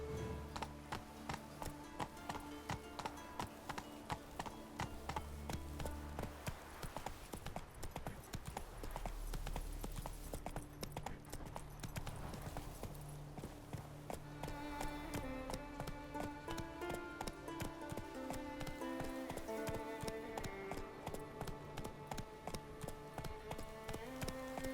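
A horse gallops in The Witcher 3, its hooves clip-clopping in a steady rhythm beneath a constant bed of orchestral game music for the whole stretch.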